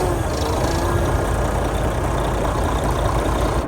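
A Volvo truck engine, cold from minus 40 degree weather, runs at a steady idle with a constant low, rough rumble close by and no break in the sound.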